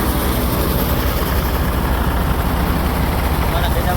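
A farm tractor engine running in a field, a loud, steady low rumbling drone close by that stays constant without pauses.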